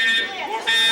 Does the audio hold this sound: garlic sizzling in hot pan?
no